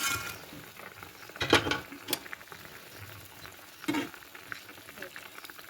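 Soya boras simmering in a vegetable curry in a pan, with soft stirring scrapes and a low, steady bubbling sizzle, two louder clattering stirs standing out near the start and middle.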